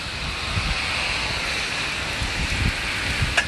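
Heavy monsoonal rainstorm with wind in North Olmsted, Ohio, a steady dense rush of rain and gusting wind noise battering the microphone, continuous and loud with no voices.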